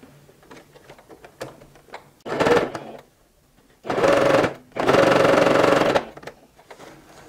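A sewing machine stitches a fabric bow cushion in three bursts of rapid, whirring mechanical running separated by pauses, with faint handling noises between them.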